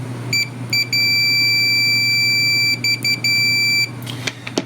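Steady high-pitched continuity beep from a Fluke 287 digital multimeter, sounding in several sustained bursts with brief gaps, loud and close over a low hum, then stopping.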